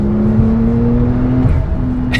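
A Porsche 911 Turbo S accelerates hard from about 60 mph, its engine a loud steady drone heard from inside the cabin with a brief shift near the end.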